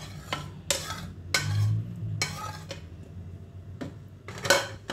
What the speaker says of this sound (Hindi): इसके बाद आप फिर चिकन सॉस डालें।